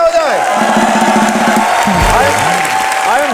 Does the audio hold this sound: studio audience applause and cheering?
yes